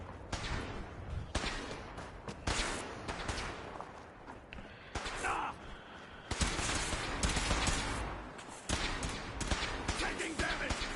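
Gunfire in the video game Fallout 4: dense, repeated bursts of shots and rattling fusillades fill most of the stretch, loud and close, with brief lulls and some game voices mixed in.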